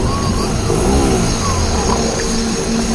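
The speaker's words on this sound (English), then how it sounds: "Eric, I got the motor up." Small outboard boat motor on a lake, running steadily and revving close by, a continuous mid-pitched engine drone with faint voices underneath.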